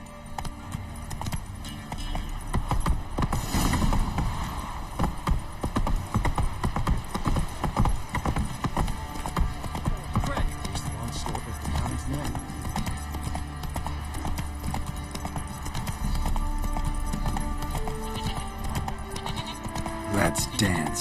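Roach the horse's hooves clip-clop steadily in a video game, with game sounds behind them and someone talking over the top.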